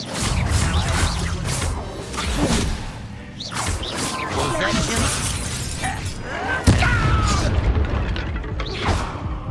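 An Incendio fire spell cast in Hogwarts Legacy, a video game, bursts with loud whooshing and crackling blasts among shattering and booming effects in a busy, continuous magical fight.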